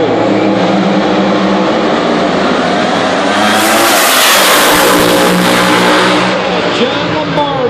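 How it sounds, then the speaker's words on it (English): An alcohol funny car at an NHRA drag race at Maple Grove roars down the track. The loud engine swells to a peak midway, then fades as it passes, while an announcer talks over it. "Alcohol funny car, round two."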